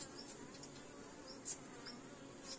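Honey bees buzz faintly around hives during a spring honey harvest as they are swept off the combs, a soft continuous drone with brief louder passes of single bees close by.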